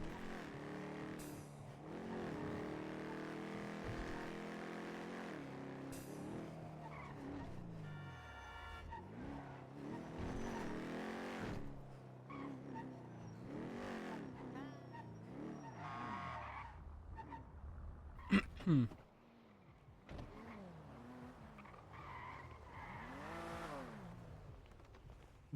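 Car engine in the GTA V roleplay game, a vehicle that loses power in eighth gear, droning with rising and falling revs and shifts throughout, plus tyre skids and a sharp burst of impacts near the end.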